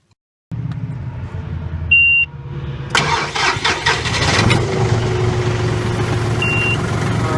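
A John Deere 5065E tractor engine cranks and catches, then settles into a loud, steady rumbling idle. A brief high beep is heard near the start.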